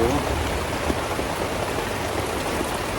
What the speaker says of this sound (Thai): ฝนแบบมาแบบว่าไม่หยุดเลยนะ